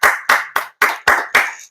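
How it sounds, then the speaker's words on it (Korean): A church congregation claps together during a Sunday worship service, six loud, evenly spaced bursts of applause close up, each fading quickly before the next. "우리 하나님께 감사와 영광의 박수를 드립니다"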